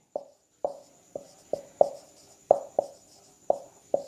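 Chalk strikes a board in a classroom with sharp, distinct taps, about nine evenly spaced knocks ringing clearly against a faint steady hum, with no voices.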